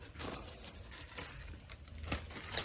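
A plastic bag crinkles and rustles close by, with soft continuous handling noise and a couple of slightly sharper crackles.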